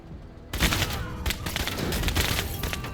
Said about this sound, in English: And then Sasha gets some free shots here